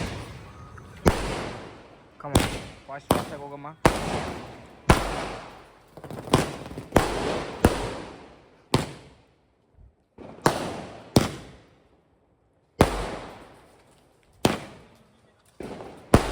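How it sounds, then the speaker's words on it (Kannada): Diwali firecrackers burst in a sharp irregular series of loud close bangs, each followed by a crackling decay and short silences, with people talking briefly between blasts. "So unlocking last and final ಪಟಾಕಿ ಶಾಟ್."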